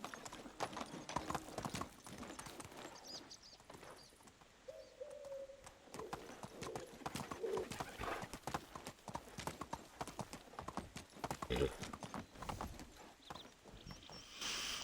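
Horse hooves clip-clopping steadily in the medieval video game Medieval Dynasty, a brisk continuous rhythm of hoofbeats with faint bird calls and cooing in the background.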